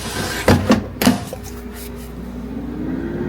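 An air fryer basket is pulled open and loaded with homemade bagels in a home kitchen: a few close clicks and clunks in the first second, then a quiet hum with a slowly rising tone.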